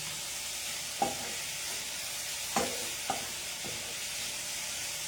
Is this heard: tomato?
yes